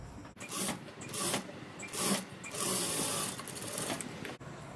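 A tailor's sewing machine stitches a boat neck blouse in short bursts, its rattling needle action starting and stopping several times close by, with brief quiet gaps between runs.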